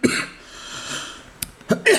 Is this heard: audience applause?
no